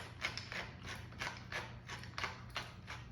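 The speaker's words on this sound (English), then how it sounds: "This has got to be the slowest way to get a lot of good pepper into your dish." A hand pepper grinder cracking peppercorns, a steady ratcheting crunch repeating about three times per second, close and quiet with no talking.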